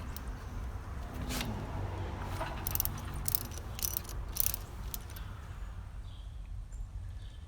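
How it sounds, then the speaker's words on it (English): Ratchet wrench clicks work the flywheel bolts off the crankshaft of a 1943 Willys MB L134 engine, short bursts of close, rapid ratcheting over a steady background hum. "The next step is to remove the 6 bolts that hold the flywheel onto the crankshaft."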